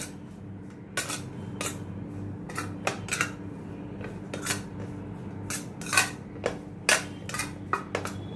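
Spoon clinking and scraping in a bowl while ground coriander, cumin and Kashmiri red chilli powders are mixed for a bitter-gourd dish, a series of bright metallic taps at an irregular pace over a low steady hum, no speech.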